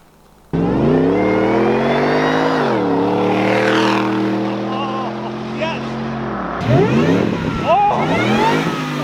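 A loud supercharged Ford Raptor pickup engine revs up, holds a high whining pitch, drops, then revs sharply again with a supercharger whine, close by.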